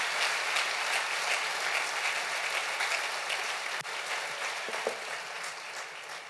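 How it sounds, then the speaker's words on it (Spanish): Church congregation applauding together, a dense, steady wash of clapping at moderate loudness that continues without a break for several seconds. "Denle un aplauso al Señor y bendiga."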